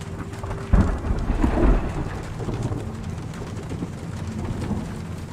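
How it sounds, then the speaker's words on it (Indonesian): A thunderstorm rolls through Shadow of the Tomb Raider, with a heavy thunder rumble near the start settling into a steady, moderately loud hiss of falling rain. "I don't like this storm."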